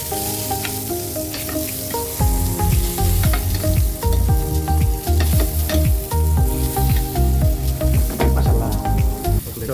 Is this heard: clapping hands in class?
no